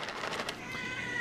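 A pet cat meows loudly and insistently at close range, a drawn-out, howling vocalization that fills the short moment, with no other sounds intruding.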